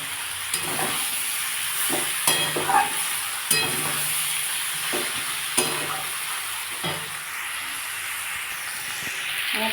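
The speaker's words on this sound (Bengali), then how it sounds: "আমার তরকারিটা কষা হয়ে এসছে" Mixed vegetable curry frying and being stirred in a pan, a constant hissing sizzle broken by repeated scraping strokes of a spatula roughly every second, close and loud with no talk.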